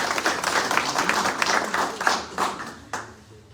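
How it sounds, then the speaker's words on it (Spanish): Applause from an audience at a book presentation at a chamber of commerce, busy overlapping claps at moderate volume that gradually taper off, ending in a few isolated claps. "Un aplauso, por favor."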